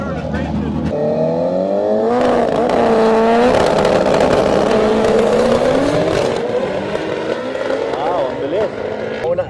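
Two Honda cars, one a red EG, in a drag race with engines revving hard through rising gear pulls, loud and close, as a commentator talks over the noise with crowd chatter behind.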